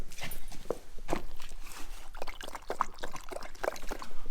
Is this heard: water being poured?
yes